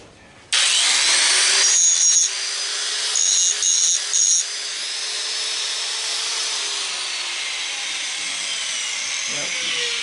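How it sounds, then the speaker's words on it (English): An angle grinder bites into a cast aluminum part in a workshop, a harsh, sustained whine starting abruptly and running loud with brief gritty pulses of contact before easing into a steady grinding hum. "I guess I hit it with the grinder to take a look."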